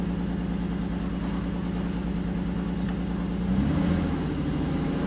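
A car engine, on a vehicle with a faulty camshaft position sensor, idles roughly and steadily close by, its low uneven rumble swelling briefly louder near the end with no talking.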